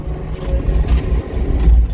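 A small convoy of trucks, a skidder and a skid steer driving along, loud close engine rumble with uneven revving.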